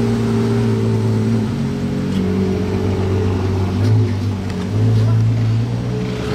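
A lifted 4x4 car drives out with a steady, loud mid-pitched engine drone that swells briefly as it moves off.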